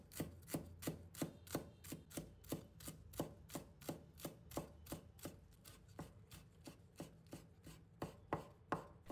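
A knife chops fresh coriander into short pieces on a board, an even run of crisp, close taps at a brisk steady rhythm, with no talk.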